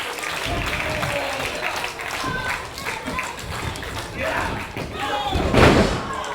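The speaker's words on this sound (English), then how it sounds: "Nice leg lariat, knocking Pharrell into the corner" A live independent wrestling title match: a leg lariat knocks a wrestler into the ring corner, with thuds and ring impacts over constant crowd noise and cheering, a louder impact burst near the end.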